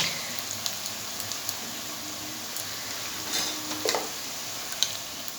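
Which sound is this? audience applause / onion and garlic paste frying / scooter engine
onion and garlic paste frying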